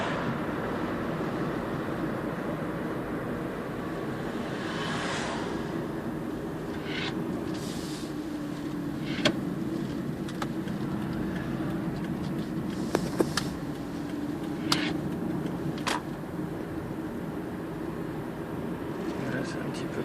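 A Toyota Prius plug-in hybrid cruising in all-electric mode on a country road, a steady low rolling and road hum inside the cabin with occasional faint clicks, heard continuously beneath someone speaking.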